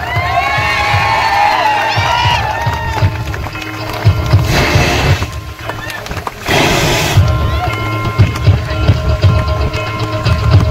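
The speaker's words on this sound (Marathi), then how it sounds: "जोरदार टाळ्या" A crowd applauding and cheering at a police-organised unity run award ceremony, with outdoor chatter and shouts throughout and louder bursts of clapping in the middle.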